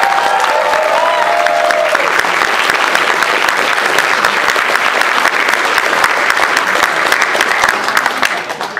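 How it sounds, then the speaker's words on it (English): An audience at a pony fan convention applauds its staff: sustained dense clapping from a large crowd, loud and steady throughout, with a few whoops at the start before it tapers slightly at the end. "please give a round of applause for our staff this year"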